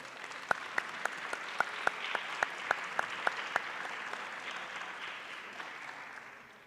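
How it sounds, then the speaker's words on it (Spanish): A crowd at an accounting conference applauds steadily, with a few sharp rhythmic claps standing out at first, then the clapping softens and tapers off. "me permito solicitar para ellos un fuerte aplauso"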